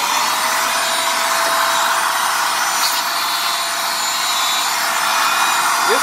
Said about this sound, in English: Here is the Dust Buster. And by Black & Decker, I'll cut it on if you hear it.